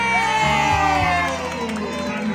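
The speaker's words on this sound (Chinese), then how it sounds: "掌声" A live audience cheers and whoops after a song, a loud crowd roar with overlapping shouts and voices that holds steady and eases off slightly near the end.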